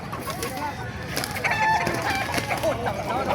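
Sweater gamefowl roosters crowing repeatedly at a busy market in Bocaue, several birds overlapping with clucks and crowd noise close by, with people talking in the background.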